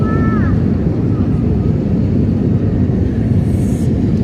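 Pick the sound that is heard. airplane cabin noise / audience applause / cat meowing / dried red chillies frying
airplane cabin noise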